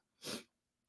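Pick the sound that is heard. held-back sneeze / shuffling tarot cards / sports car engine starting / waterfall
held-back sneeze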